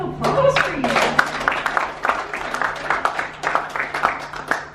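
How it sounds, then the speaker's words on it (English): A small group claps at a cohort's year-one completion event, a brisk close smattering of hands that keeps going with scattered voices talking over it. "Pat, give one more round of applause for you"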